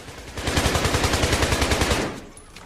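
Rapid automatic gunfire in a shooter video game aimed at a wall, a loud burst of about twenty evenly spaced shots lasting under two seconds before cutting off.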